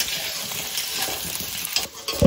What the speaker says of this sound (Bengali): হাঁসের মাংস রান্না করার জন্য আলুটা লাল লাল করে ভেজে নিচ্ছি।